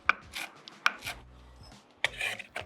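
Knife chopping crisp garlic, blanched and then fried in olive oil, on a cutting board for ossobuco gremolata: a few sharp, close chops with soft scraping between them and no voices.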